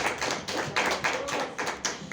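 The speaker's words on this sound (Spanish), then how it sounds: "Dale un fuerte aplauso al Señor" Church congregation applauding in a steady, rhythmic wave of claps that runs throughout, fairly close and full, with no voices over it.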